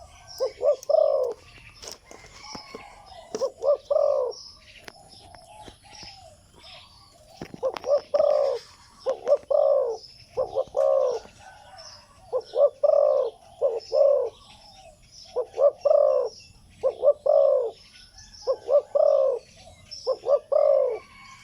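A Thai decoy bird kept for calling gives repeated loud cooing phrases, close and clear, in short bursts separated by pauses, with faint chirps and clicks between.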